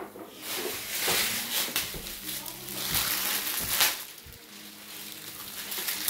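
Coke from a bottle sloshing and splashing into a bathtub filled with 20 litres of cola, with fizzing under excited talk from several people throughout.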